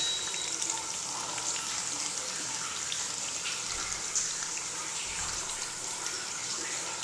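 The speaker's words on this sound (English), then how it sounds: "this is just normal spraying on the glass" Water spraying steadily onto shower glass and running into the door track, a continuous hissing, splattering wash at moderate level that stays even from start to finish.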